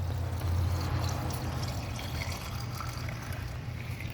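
Water pours steadily into the windshield washer reservoir of a Haval Jolion HEV, a close, continuous gurgling splash with low rumbling underneath and no talk.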